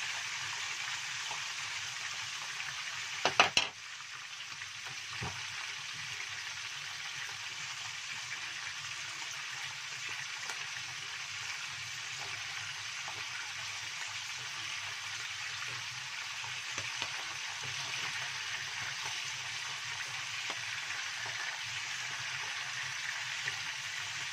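Capelin fish frying in a pan of oil, a steady soft sizzle and crackle running throughout, fairly faint and close, with one brief louder clatter near the start.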